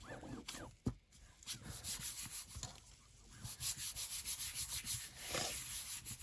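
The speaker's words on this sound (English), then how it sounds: "Give it a good old rub" A hand rubs firmly over scrap paper laid on wet paint to transfer a print for a junk journal craft, giving steady rhythmic scrubbing strokes, close and fairly quiet, with no talk.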